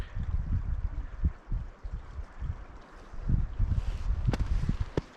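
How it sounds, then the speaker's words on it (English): Wind rushing and gusting through a mountain forest, a steady low roar that swells and eases in waves, with occasional buffeting bursts against the microphone. "just listen to the wind"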